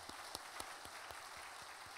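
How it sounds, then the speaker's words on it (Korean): A church congregation applauds youth teachers during a Korean worship service: sparse, fairly faint clapping with distinct individual claps in an irregular rhythm, heard at a distance with no talking over it. "박수 한번 주겠습니다"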